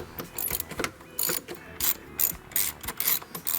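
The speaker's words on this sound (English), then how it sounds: "Then removing the bolts." A ratchet wrench clicks in a rapid series of short bursts, close up, while the air box bolts are loosened on a 2004 Honda Civic. No one speaks.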